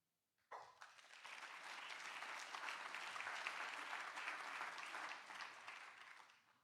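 Audience applause at a professional fair breaks out suddenly and holds steady for about six seconds, a dense wash of many hands clapping, then tapers off.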